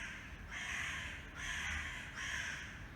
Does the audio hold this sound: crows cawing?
yes